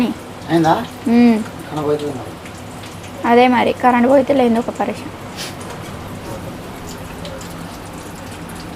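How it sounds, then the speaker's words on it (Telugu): Rain patters steadily on surfaces in the background, a soft, continuous spattering that sits under someone speaking, then carries on alone after she stops. "వర్షం స్టార్ట్ అయింది తొందరగా"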